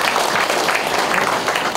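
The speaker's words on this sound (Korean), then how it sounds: "박수 한번 쳐주세요." An audience applauds steadily at a year-end gathering of a veterans' association branch, a dense, close patter of many hands filling the moment without speech.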